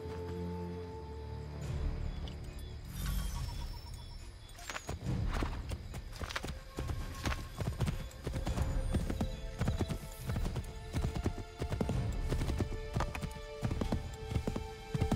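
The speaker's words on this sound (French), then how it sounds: "Remontons en selle, Connor" Horse hooves gallop in Assassin's Creed 3, a fast, steady clip-clop that grows loud and close after the first few seconds and drives on to the end, with a brief whinny near the start.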